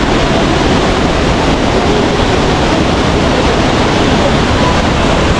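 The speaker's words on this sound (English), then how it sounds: "get to do the first waterfall" Dense, steady roar of a waterfall in Da Lat, Vietnam, heard up close and loud as an unbroken wash of white noise with no voices over it.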